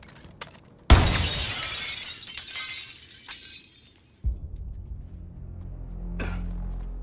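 Glass shatters loudly and suddenly in the video game Suicide Squad Kill the Justice League, a sharp crash trailing into scattered tinkling debris over several seconds, followed by a low rumble and a brief whoosh.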